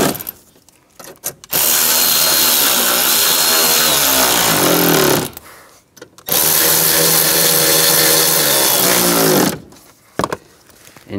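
A power tool drives screws into a glove box latch on a 1999-2006 Chevrolet Silverado 1500, two loud sustained bursts of whirring about four seconds each, separated by a short pause and followed by quiet.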